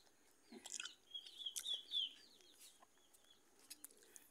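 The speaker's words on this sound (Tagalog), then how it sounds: "Ang manok yan." A large Ulikba gamefowl rooster kept for cockfighting gives a few short, faint clucks and calls close by in a quiet setting, with no talking.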